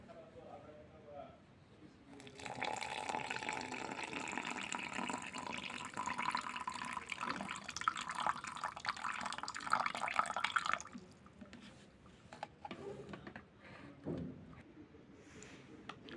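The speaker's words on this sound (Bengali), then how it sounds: "এবার পানি দিয়ে দিব।" Water runs and splashes steadily into a cup of Nescafe 3 in 1 Hazelnut Latte instant coffee powder for about eight seconds, close and moderately loud, with quieter handling noises before and after.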